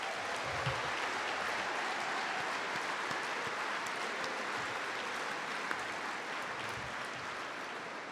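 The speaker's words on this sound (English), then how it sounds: "So give yourselves a round of applause." Graduating cadets at a commencement ceremony applaud in a large crowd, a dense, steady roar of clapping that holds loud and continuous throughout without pause.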